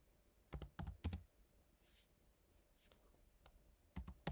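A comment typed on a computer keyboard at a Linux terminal while creating a user: quiet, close keystrokes in two short clusters of three or four clicks, with faint rustling between them.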